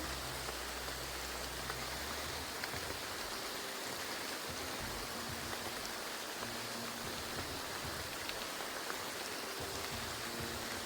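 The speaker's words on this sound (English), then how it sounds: "It's raining again." Rain falling in the game Graveyard Keeper, a steady, soft, even hiss of drops continuing without pause, fairly faint and with no talking.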